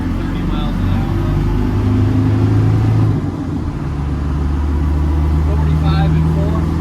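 A 1991 Land Rover Defender 90 with the 200Tdi diesel engine pulls away and accelerates up through the gears, a loud, steady low rumble with a brief dip around a gear change and someone talking over it.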